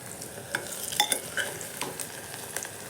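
Onions frying in a pan while being stirred, with steady sizzling and scattered scraping clicks of the spoon throughout, close and moderately loud, with no talking.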